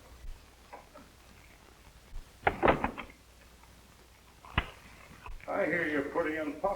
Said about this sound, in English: All right, shut the door.